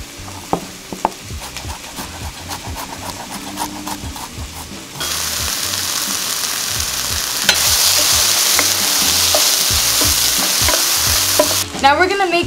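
Onion, tomatoes and garlic fry in a pan for vegan Mexican-style tofu eggs, with rhythmic stirring scrapes over a sizzle that grows louder and more intense halfway through.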